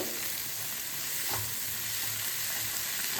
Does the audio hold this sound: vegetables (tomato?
yes